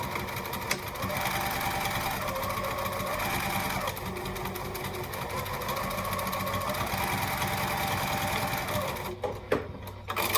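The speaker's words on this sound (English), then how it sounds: "I just back the foot in up pretty close to that stitch line" A sewing machine stitches a tote bag pocket in a steady, fast-running mechanical whir that holds for several seconds before stopping near the end, close and moderately loud.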